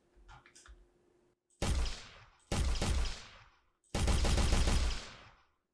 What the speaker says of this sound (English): Now when you shoot with a gun